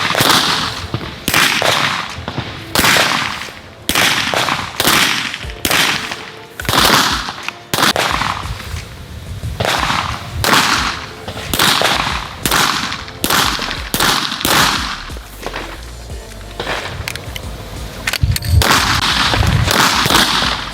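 Gunshots fired during shooting practice at a range, a steady series of sharp, loud reports spaced about a second apart, several coming in quick pairs, with no talking.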